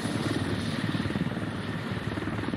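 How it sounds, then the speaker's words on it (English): A helicopter in a military video game hovers close and drops off supplies, its steady rotor thump and engine roar filling the clip loudly and continuously with no talk. "But here comes the helicopter. Dropping off a radio, guys."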